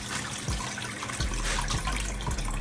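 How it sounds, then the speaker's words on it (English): Peas being washed and rinsed in water in a bowl or sink while cooking Jamaican stew peas, giving a steady splashing, running-water wash with a few louder swishes, close and alone without talk. "No, you can wash it twice and then just rinse it."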